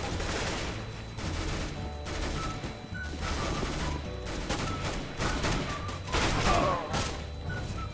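Rapid pistol gunfire in the shooter game CS:GO during an arms race match, with dense bursts of shots crackling steadily throughout.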